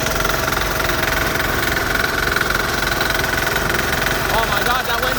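A Bolens diesel garden tractor engine idles loudly and steadily close by, with a rough knocking diesel rumble throughout and a brief outdoor disturbance near the end.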